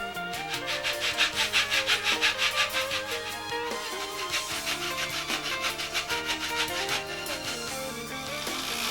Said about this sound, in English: then cut and angle the base plate accordingly